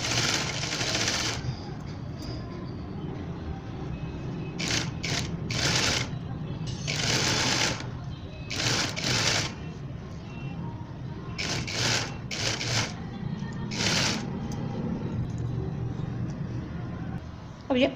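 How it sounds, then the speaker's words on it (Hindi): Sewing machine stitching piping onto stretched fabric for a shirt sleeve, running in repeated bursts with short pauses between, a close, steady mechanical rattle with a voice talking over it at times. "इस तरीके से हल्का हल्का सा आपको फैब्रिक को खींचकर पाइपिंग लगानी"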